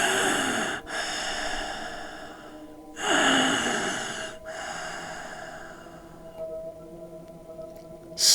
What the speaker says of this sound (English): All sound on the train ceased, in fact, other than the gardener's sluggish breathing.